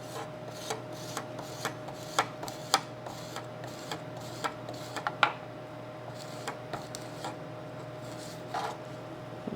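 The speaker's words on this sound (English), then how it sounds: "what I'm going to do here is I'm going to zest it" Fresh peeled ginger is zested, with repeated soft raspy scrapes in an irregular rhythm, close and quiet, over a faint steady background hum.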